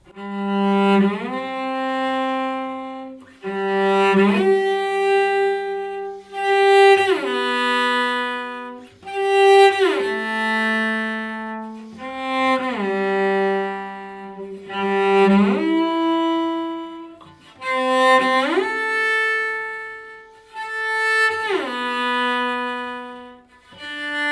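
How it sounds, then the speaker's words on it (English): Cello phrases with frequent sliding shifts between notes, each phrase swooping up or down, played alone with brief pauses between. "it sounds kind of funny because it has a lot of portamentos."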